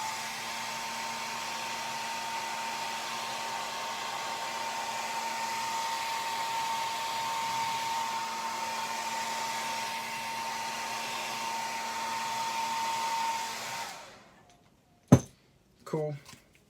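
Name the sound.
heat setting airbrushed paint on a crankbait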